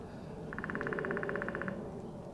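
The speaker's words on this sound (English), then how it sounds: "there's a woodpecker out there" A woodpecker drums on tree bark out in the woods, one quick, even burst of about twenty taps lasting just over a second, heard from a distance over faint outdoor background.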